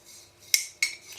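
A teaspoon clinks against a dish twice in quick succession, close and bright, with no voices.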